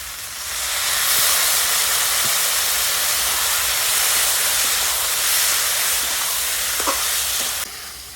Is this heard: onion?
yes